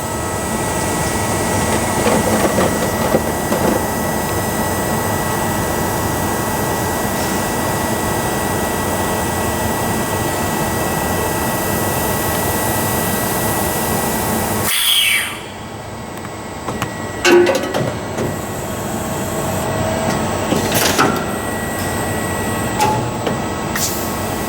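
LabTech LBM125 three-layer co-extrusion bottle blow molding line runs with a steady loud mechanical whir and hiss, then an abrupt drop and shift in tone partway through, with scattered clanks and no talking.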